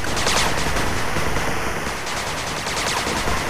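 Continuous rattling machine gun fire in the 8-Bit Armies strategy game, a dense, loud, unbroken stream of rapid shots filling the whole stretch without pause.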